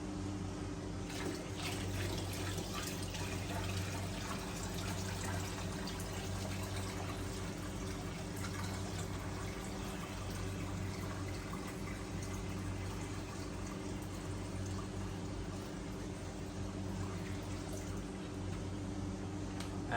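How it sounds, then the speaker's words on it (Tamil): Water is poured slowly and steadily into a flowerhorn fish tank, a continuous soft wash of liquid under a low constant hum, with no talking. "தண்ணி ஊற்றும் போது ரொம்ப மெதுவாக ஊற்றணும்."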